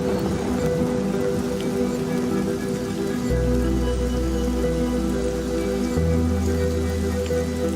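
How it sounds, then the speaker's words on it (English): Rain falls steadily at night in the African bush, a broad, even hiss over a low, constant rumble with no voices. "The rain is a welcome relief"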